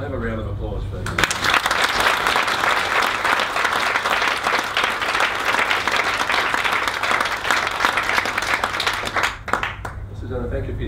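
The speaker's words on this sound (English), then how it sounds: "Can I have a round of applause for you?" Applause fills a public event with an independent MP, sustained clapping from a crowd that rises quickly and holds steady for several seconds before fading.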